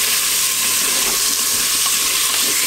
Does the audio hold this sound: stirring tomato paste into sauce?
yes